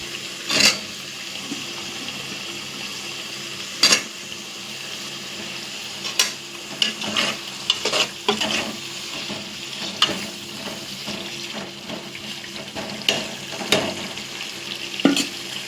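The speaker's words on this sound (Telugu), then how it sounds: "ఈ విధంగా ఆయిల్లో కాస్త వేగిన తర్వాత ఇందులో మీరు బంగాళదుంప వేయచ్చు." Potatoes fry in oil with chicken, giving a steady soft sizzle broken by scattered sharp clicks and scrapes of stirring. No one speaks.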